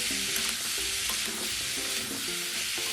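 Bottle gourd pieces frying on full flame in a kadai, giving a loud, hissing sizzle close by with repeated stirring strokes and a faint tonal background.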